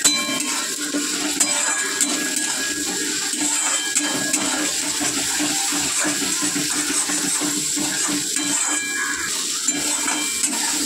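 Ginger and garlic paste frying in a pan, with a steady, dense sizzle that runs unbroken all the way through and carries no voices.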